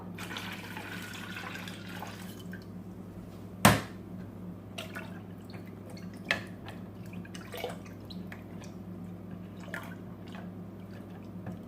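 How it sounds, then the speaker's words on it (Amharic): Water being added to a homemade Ethiopian berz, a honey and orange drink, comes through as faint trickles and scattered drips, with one sharp splash near the start and a few softer drops after it, with no voices. "አሁን ውሃውን ጨምረዋለሁ።"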